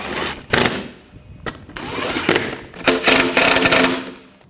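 A power tool tightens bolts on the front lower control arm of a 2000–2006 BMW X5, firing loud rattling bursts that stop and restart, with brief pauses between them.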